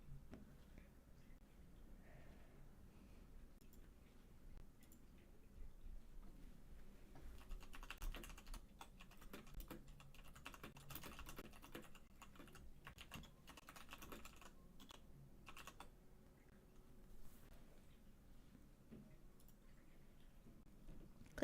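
Typing on a Royal Kludge mechanical computer keyboard, a steady run of close, rapid clicky keystrokes that keeps going for about twenty seconds, with bursts that get busier in the middle.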